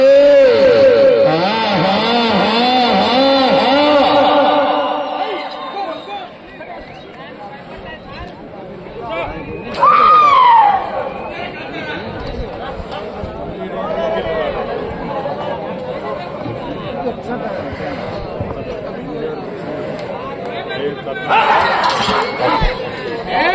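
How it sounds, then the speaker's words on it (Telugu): Spectators at a temple-grounds bullock pulling contest for the new category's ninth pair raise a loud, sustained roar of cheering and whistling. A sharp burst of whistles rises near the middle, under constant crowd chatter. "జనాల్లో స్పందన విజిల్స్"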